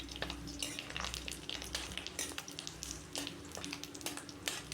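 Curry leaves fry over very low heat for a poha snack mix, giving a quiet, continuous crackle with scattered small pops and sputters throughout, no voices.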